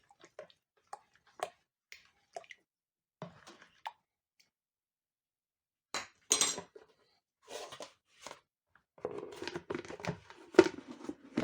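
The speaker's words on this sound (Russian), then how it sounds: "Сейчас все сюда вливаем. Хорошенько все перемешиваем." Hop sourdough starter mixture stirred in a bowl after pressed yeast is poured in, giving scattered soft clinks and wet splashy sloshing, sparse at first and then denser and louder toward the end, with no talk.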